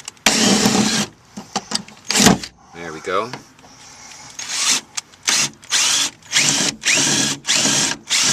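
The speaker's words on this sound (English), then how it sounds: "with our drill, we're going to drill the 3 rivets that secure here into the dash" Power drill boring out three rivets in a Toyota RAV4 dashboard during front speaker removal, heard as repeated short loud whirring bursts with pauses between, and someone speaking briefly in between.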